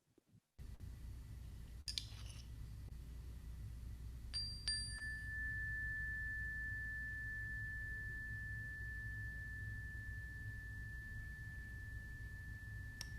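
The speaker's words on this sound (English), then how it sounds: "we ring a bell at the end of a meditation" A meditation bell rings with a single struck tone that sustains as a long, pure, steady hum over a quiet room, preceded by faint clicks and rustling.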